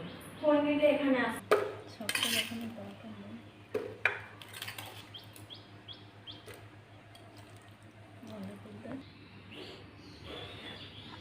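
Mixed raw mango pickle is spooned into an empty jar, with clinks and scrapes of a spoon against glass and dishes, close and uneven, while birds chirp faintly in the background.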